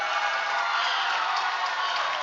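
A crowd at a climbing competition final applauds and cheers as a climber tops a lead route, heard as a steady, slightly distant wash of clapping and voices with no distinct individual claps.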